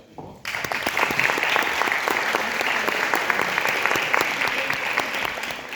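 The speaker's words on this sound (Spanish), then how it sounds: "Un aplauso." An audience at a university physics lecture on quantum gravity breaks into applause. After a brief quiet start, many hands clap in a dense, sustained burst that stays loud to the end.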